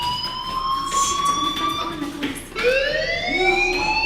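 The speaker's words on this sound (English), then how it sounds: "do you hear that fire alarm?" Electronic fire alarm from the video game Life is Strange, steady piercing tones with stacked harmonics that sustain throughout, briefly dipping then resuming, loud and continuous in the foreground.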